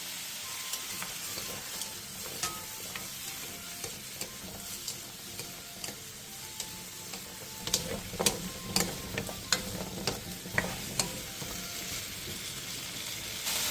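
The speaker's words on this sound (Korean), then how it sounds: "그 다음 감자와 당근, 소금 1티스푼을 넣고 센 불에서 2-3분간 볶아주세요." Potatoes and carrots with a teaspoon of salt stir-fry in oil over high heat, giving a continuous close sizzle with frequent sharp clicks and taps from stirring that grow busier toward the end.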